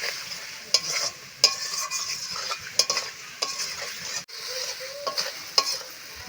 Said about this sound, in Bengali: এই দেখুন মশলা আর আলু ভালো করে কষিয়ে নিয়েছি